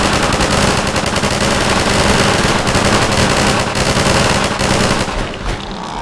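Rapid automatic gunfire in the video game Garry's Mod, a loud continuous burst of shots with no pauses, fading slightly at the very end.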